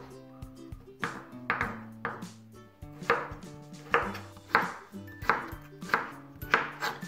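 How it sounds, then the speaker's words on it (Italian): A knife dices potatoes into small cubes on a cutting board, with about a dozen crisp, evenly spaced chops landing close and clear, alone without talk. "Per prima cosa taglio le patate a cubetti piuttosto piccoli"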